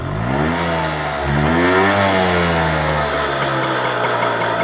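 An old Suzuki TF185 motorcycle engine with its muffler removed runs up close, revving up and settling back to a steady, loud, raspy idle; the engine sounds sluggish and unhealthy.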